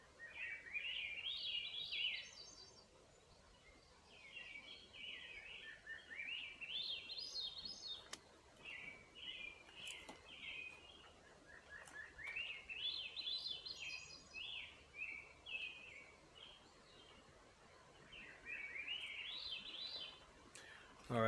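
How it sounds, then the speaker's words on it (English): Wild birds sing at Pintail Marsh in Jefferson, Oregon, repeated bright chirping phrases coming in waves over a quiet outdoor background, moderately distant, with no voices. "right now, we can mostly hear a lot of birds."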